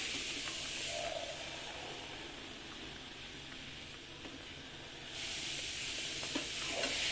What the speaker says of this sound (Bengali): তো বন্ধুরা দেখো আমার ডালগুলো কিন্তু ভালোভাবে ফুটে উঠছে